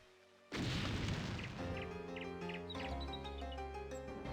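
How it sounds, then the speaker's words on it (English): A ship fires a cannon broadside in the Anno 1602 strategy game: a sudden loud boom that trails into rumbling decay, followed by layered game music tones and light chirpy effects. "full broadside."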